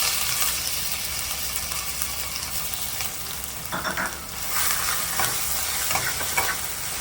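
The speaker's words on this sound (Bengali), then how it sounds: "এরপরে আমি আদা বাটাটা দিয়ে দেবো।" Ginger paste frying in hot oil with bay leaf, green chili and cumin, a bright steady sizzle with occasional stirring scrapes and a louder burst of crackling partway through.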